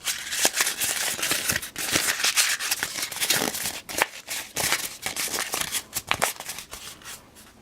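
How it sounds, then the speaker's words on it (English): Paper is crumpled by hand for card making, a continuous close crinkling and rustling with irregular crackles and bursts throughout. "Kind of crumple it up."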